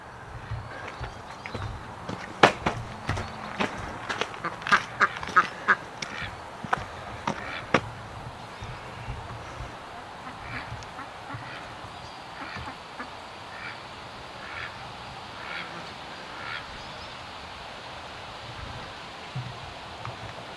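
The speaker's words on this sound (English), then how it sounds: "I'm gonna give you some duck action" A group of ducks quacking outdoors, with a rapid cluster of sharp, close calls over the first several seconds that then thins into fainter, scattered quacks over a low steady background.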